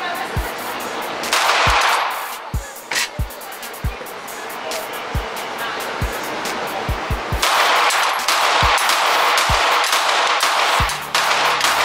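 Gunshots ring out from a pistol with a DLC-coated barrel at a vendor showcase: a dozen or so sharp, loud reports in an uneven rhythm over steady background noise.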